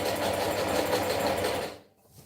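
A sewing machine stitches in a steady, rapid rhythmic whir, close and fairly loud, then stops abruptly near the end, leaving near silence.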